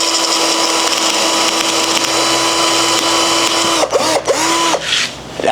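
A cheap electric drill runs on its most powerful setting, a steady loud whine that holds for several seconds before sputtering into a few short bursts and dips as it fails to bore a hole.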